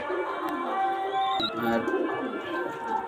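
Pigeon cooing from a red Jiriya pair, with soft bird calls and a brief chirp close by over steady background noise from a pigeon loft.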